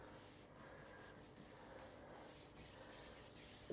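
Icing is rubbed smooth over a Rice Krispies cake for a baby-bottom cake, making a soft, continuous close rubbing and swishing hiss in repeated strokes, quiet and with no voice.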